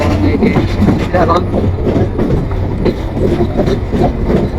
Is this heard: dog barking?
no